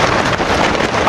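Strong snowstorm wind batters a camping tent at night, a steady loud roaring rush with flapping buffeting and no voices.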